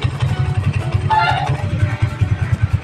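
A Suzuki Raider 150 Fi motorcycle engine idles very low and close, its steady pulsing thrum continuing throughout with a brief rise in pitch midway.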